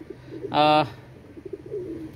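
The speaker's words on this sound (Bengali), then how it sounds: "আজকে মোটামুটি 35 জোড়ার মতো কবুতর দেখাবো।" A single short, resonant coo comes from a Pakistani pigeon kept among many paired birds. It stands out close and clear over faint background murmur.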